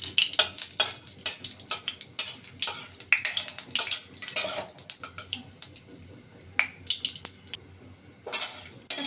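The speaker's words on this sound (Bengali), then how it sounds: "তার মধ্যে আমি একটা শুকনো লঙ্কা, 2টো তেজপাতা ফোড়ন দিলাম।" One dry red chilli and two bay leaves tempering in hot mustard oil, giving a steady crackling sizzle broken by frequent sharp clinks and scrapes of a spatula against the pan, close and fairly loud.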